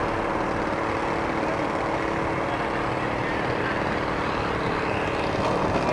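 A radio-controlled P-51 Mustang model airplane approaches to land, its engine droning steadily and fairly loudly throughout with broadband wind-like noise and no pauses.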